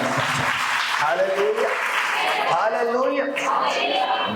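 A church congregation claps hands steadily throughout, the dense clapping mixed with loud voices of the crowd calling out.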